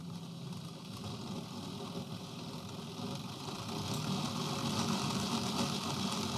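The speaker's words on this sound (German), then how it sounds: "Aber ihr hört den Motor laufen." Small electric motor running steadily inside a Roco ET85 model locomotive after a conversion to an ESU LokSound 5 decoder, a continuous low whir and hum at moderate level that swells slightly toward the end, with no talking.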